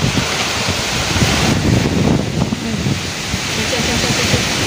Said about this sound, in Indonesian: anginnya itu lagi kencang sampai pohon-pohon itu miring